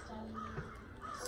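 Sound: crows cawing

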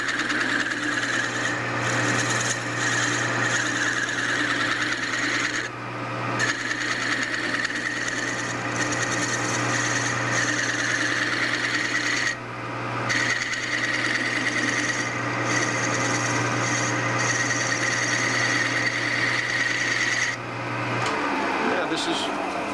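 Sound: cutting a tenon on a pool cue

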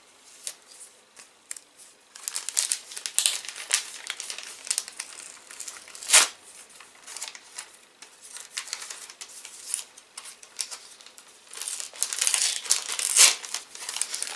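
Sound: unwrapping kraft paper wrapping

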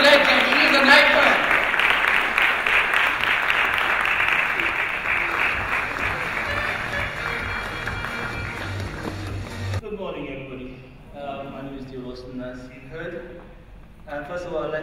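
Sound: applause

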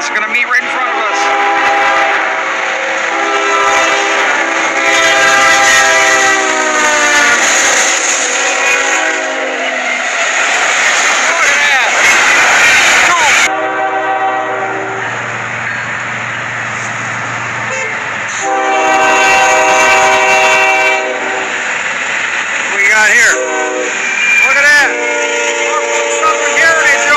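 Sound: train passing and sounding its horn

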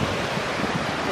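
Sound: waves and wind on Panama City Beach

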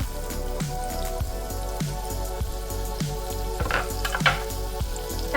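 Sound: chopped onions sautéing in oil

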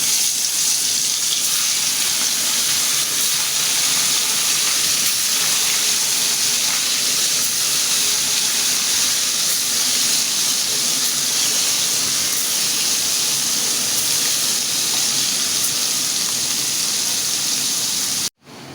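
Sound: koi fish frying in hot oil

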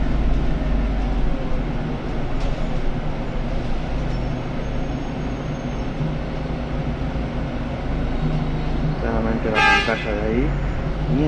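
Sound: bus horn honking

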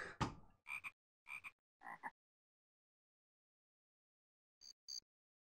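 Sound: frog croaking in the Zoombinis video game

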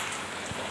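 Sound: rain falling

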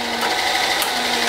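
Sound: drilling a hole with a letter F drill bit

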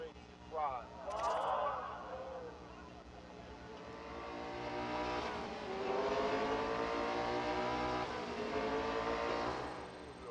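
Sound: race car engine in Need for Speed No Limits video game

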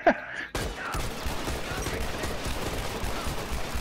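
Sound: gunfire from a semi-automatic gun in a video game

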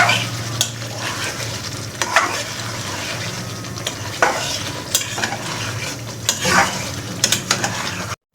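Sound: stirring bottle gourd into frying chicken curry

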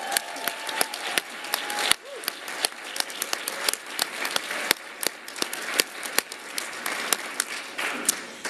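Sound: applause

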